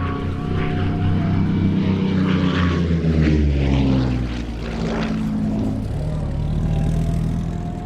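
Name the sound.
Spitfire propeller aircraft engines running at the hold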